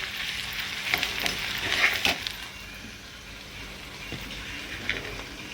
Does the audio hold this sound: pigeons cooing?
no